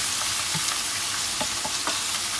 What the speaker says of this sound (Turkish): Soğanı kavruluncaya kadar ara ara karıştıralım.